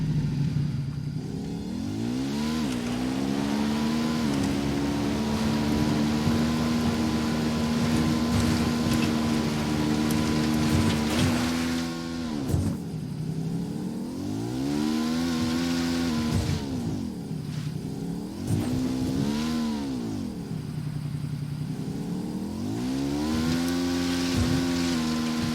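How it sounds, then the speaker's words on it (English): A motorbike engine in the Ghost Recon Wildlands video game drones steadily while riding, then rises and falls through several revving surges and gear shifts, loud and close with no voices over it. "Taking the bike."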